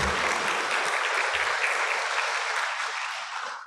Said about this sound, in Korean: 우리 권세훈 목사님 우리 박수로 맞이하도록